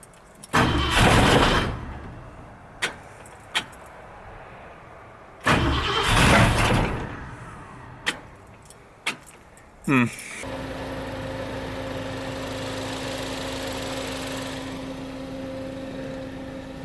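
Ford Mustang brought back after months off the road with a weak battery: two long strained cranks, a few sharp clicks, then the engine catches and settles into a steady idle, close by with no talk.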